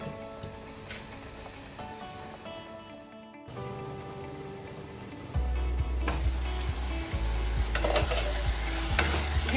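Shahi paneer gravy masala simmering in a lidded pan over a very low gas flame, a steady soft sizzle with occasional stirring scrapes and a low hum growing stronger partway through.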